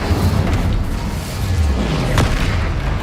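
Spell explosions from the Confringo fire curse in the video game Hogwarts Legacy, a dense, loud rumbling boom with crackling bursts rolling on for a few seconds, up close and without talk.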